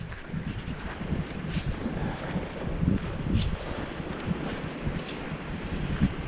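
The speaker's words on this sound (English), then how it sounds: "Still kind of breezy" Breezy wind buffets a microphone aboard a boat out on the bay near a jetty, a continuous low rumbling roar with gusty swells and faint lapping water, close and steady throughout.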